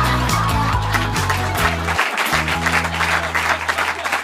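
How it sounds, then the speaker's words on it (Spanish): Audience applause at a stand-up comedy show, a loud, broad crowd clapping under a steady musical backing of low repeated tones that stops briefly midway and resumes. "¡Fuerte el aplauso!"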